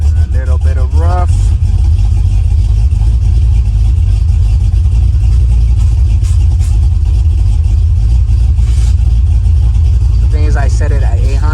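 A car engine fitted with Sniper EFI fuel injection idles roughly, a loud, uneven low rumble heard close up, with brief voices near the start and the end.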